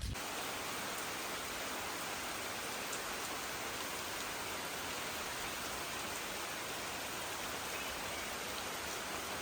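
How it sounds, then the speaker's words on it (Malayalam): Heavy rain pours steadily, a dense and even hiss of drops on surfaces that continues unchanged from start to end, with no voices over it. "മഴ നന്നായിട്ട് സ്ട്രോങ് ആയി തുടങ്ങിയിട്ടുണ്ട്."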